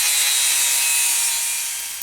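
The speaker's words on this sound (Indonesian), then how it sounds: "Kemudian gerinda mengikuti tanda." An angle grinder cuts along a marked line on a lightweight steel hollow tube. It makes a loud, steady, hissing metallic screech that holds evenly and fades slightly at the end.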